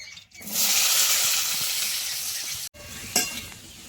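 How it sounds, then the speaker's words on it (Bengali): Grated carrots hit hot ghee with whole cardamom for gajar halwa, a loud bright sizzle that settles into steady frying, briefly cut off, then resumes with a stirring scrape. "দিয়ে আমি গাজরটা একটু ভেজে নেবো।"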